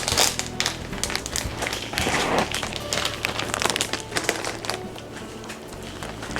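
A package of craft add-ons being torn open by hand, with loud, close crinkling and tearing of packaging that continues in uneven bursts throughout, with no talking.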